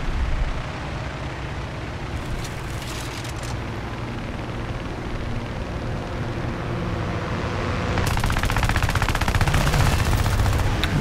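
Gunfire from a V-156-F aircraft in War Thunder air arcade battle, steady rapid machine-gun bursts over a continuous engine drone, growing denser and louder near the end.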